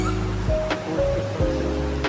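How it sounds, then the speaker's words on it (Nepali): A stream flows inside Shaileshwar cave near Pokhara, underground beneath solid rock, a steady full rush of water filling the clip, with a few faint knocks and tones in the dark space. "यहाँ तल खोला पनि बगिरहेछ"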